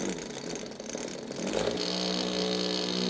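A ball bearing spins inside a vortex paint mixer, giving a steady whirring, motor-like drone that swells and grows louder partway through and holds there, with no talk.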